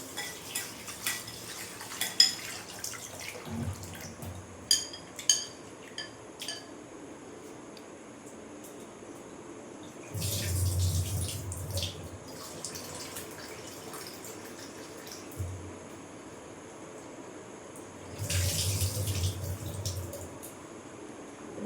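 Rice grains are rinsed in a metal pot, with scraping and clinking of utensils followed by two bursts of running tap water, quiet and close with pauses between.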